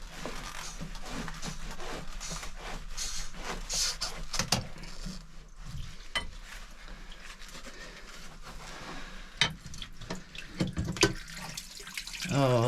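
Water leaking from a well pump, trickling and splashing in an irregular stream with occasional louder spurts and clanks, fairly quiet and close, with no talking.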